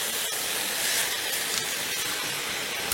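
Yogurt added to chicken malai curry frying in a pan gives a loud, continuous hissing sizzle that stays steady from start to finish.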